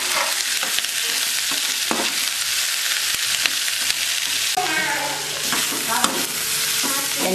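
Onions fry with salt in a pan, a constant close sizzle broken by frequent spoon scrapes and taps against the pan as they are stirred.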